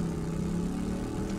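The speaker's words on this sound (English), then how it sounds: "I love this motorcycle sound. It's so amazing. I feel like I'm on a real motorcycle." Steady engine drone of a motorcycle ridden in the video game 7 Days to Die, a continuous mid-pitched hum held at even loudness without a break.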